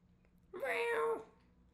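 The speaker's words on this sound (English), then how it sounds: "It sounded almost reprimanding. Mad Cat nuzzles against my cheek" A cat in the video game Hello Charlotte lets out a single drawn-out meow, clear and close, rising then falling over about half a second against a quiet background.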